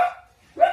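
A dog barking outside, two sharp barks separated by a short gap, moderately loud and heard alone without talk.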